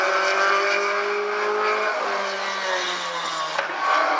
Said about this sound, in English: First lap for Jesse Conway, coming out of turn 4 to complete lap number 2